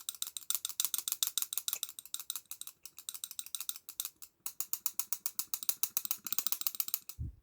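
An all-aluminum balisong butterfly knife with a tab being flipped, producing rapid metallic clicks and rattles in quick rhythmic bursts, close and crisp, with a brief pause near the middle and no talking.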